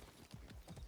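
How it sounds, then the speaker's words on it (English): Horse hooves clip-clop in a quick, even rhythm in the open-world video game Far Cry 6, faint and brief, with no talking. "Let me commandeer this horse."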